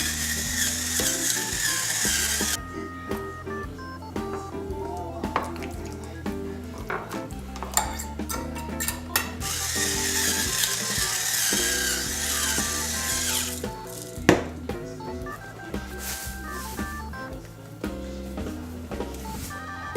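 A pepper grinder cranks pepper onto a smoked pork shoulder, its steady, gritty ratcheting close and continuous under a bed of background music.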